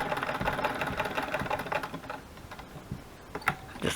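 An old sewing machine runs with a rapid, clattering mechanical rhythm, close up, slowing slightly near the end.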